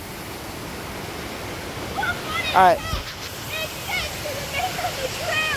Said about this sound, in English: I'm hella close to this waterfall.